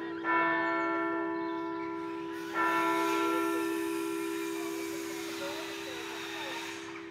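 Chester Cathedral church bells chime nine o'clock in a city setting, two loud strikes whose long ringing tones hang and slowly fade, with faint outdoor background.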